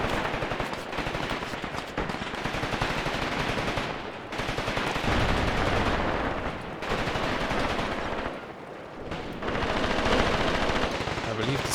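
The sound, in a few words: enemy machine gun firing in the video game Graviteam Tactics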